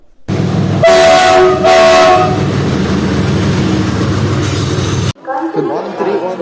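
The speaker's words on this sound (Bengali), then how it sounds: "কাঞ্চনজঙ্ঘা এক্সপ্রেস আমাদের ঢুকছে এক নম্বর প্ল্যাটফর্মে" An Indian Railways Kanchanjungha Express, newly fitted with LHB coaches, pulls into platform one at a station with loud horn blasts and a rumbling roll before the noise cuts off into crowd voices.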